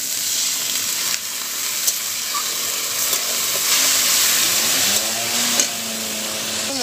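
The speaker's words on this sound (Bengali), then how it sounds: "মশলাটাকে ভালো করে কষিয়ে নেব" Spice masala sautés in oil with a splash of water added, a continuous close sizzle and bubbling hiss with scraping stirs and occasional spatula knocks, no talking over it.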